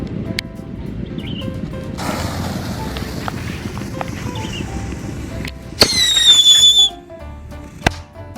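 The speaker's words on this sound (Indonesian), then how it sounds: "Yang pertama ini ada mercon tikusan ya," A ground-spinning "tikusan" firecracker fizzes and whistles loudly, its shrill hiss sliding down in pitch, after a stretch of steady crackling noise outdoors.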